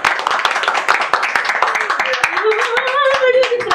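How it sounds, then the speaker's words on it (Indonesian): Several people clap their hands in a dense, steady burst with talking underneath, part of a studio interview. "Tepuk tangan dulu dong."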